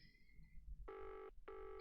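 Two loud electronic telephone rings in the video game Nick And Willikins, each a sustained buzzing tone cut by a short gap, following a fainter higher tone at the start.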